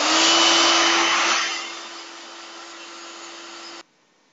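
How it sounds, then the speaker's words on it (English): An ear tie professional turbo hairdryer blows with a loud, broad rushing roar and a steady motor hum, then drops to a quieter, lower airflow setting before abruptly cutting off. "the hairdryer I'm using is this ear tie hairdryer"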